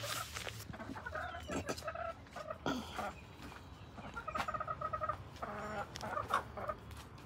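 Backyard hens cluck and murmur in scattered bursts, with some louder calls among them, moderately close with bits of ambient noise between.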